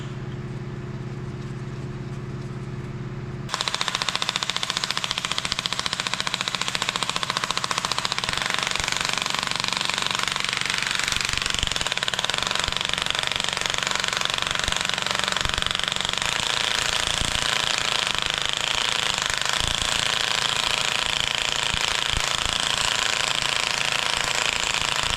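Timing gear cover on a Detroit Silver 4-53T engine being driven into place, with a dense run of sharp metallic tapping and knocking close by, steady and loud over about twenty seconds after a quiet start.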